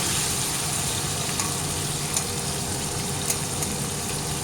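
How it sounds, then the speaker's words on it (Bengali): Fish rubbed with salt and turmeric frying in hot oil, a steady, loud, continuous sizzle with faint pops throughout and no voices. "মাছগুলো লাল লাল করে ভেজে নেব"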